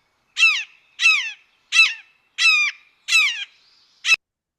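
A bird mimicking a red-shouldered hawk gives six loud, harsh, evenly spaced calls, the last one shorter, close and clear against silence.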